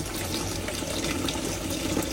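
Raw beef pata rinsed under running tap water in a kitchen; a steady, full gush of water splashing over the meat throughout, with no talk.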